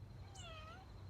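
A storyteller's voice imitates a cat's loud meow, a single drawn-out call that bends up then falls away, heard close over a low steady hum.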